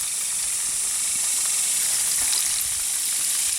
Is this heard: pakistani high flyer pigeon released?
no